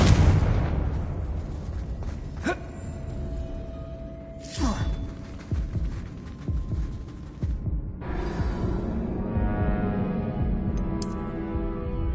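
Confringo spell explosions in a Hogwarts video game: a heavy booming blast at the start fading into a rumble, followed by sharp whooshing cracks and sizzling bursts at intervals, with a low hum underneath.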